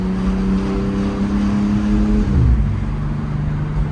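A 2024 BMW G82 M4 Competition RWD with a high-compression engine drones loud and steady from the cabin, its pitch climbing and then dropping sharply as the car upshifts midway before settling into a lower hum.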